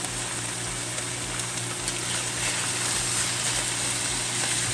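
Onions hit a hot pan already searing Cuban palomilla steak, giving a steady, loud, broadband sizzle that runs unbroken throughout with no talking over it.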